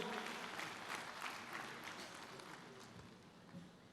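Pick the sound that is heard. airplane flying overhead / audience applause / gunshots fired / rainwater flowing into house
audience applause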